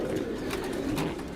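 Homing pigeon cooing in a loft, a long-distance racing bird from Saudi Arabia, its low rolling coos continuous and close for the whole moment with no talk over it.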